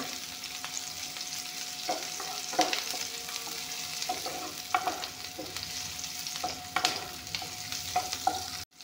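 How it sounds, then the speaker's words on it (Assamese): Chopped onions frying in a little refined oil for a jackfruit and fish curry, with a steady close sizzle and repeated scraping stir clicks as a spatula works through the pan, no voices. "পিঁয়াজখিনি অলপমান ৰিফাইনত ভালকৈ ভাজি লৈ ৰংগুড়াখিনি দিম।"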